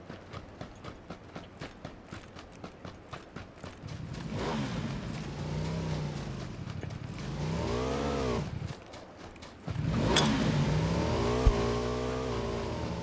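A motorcycle engine revs and drones in PUBG, rising and falling in pitch, after a run of rhythmic thumping footsteps.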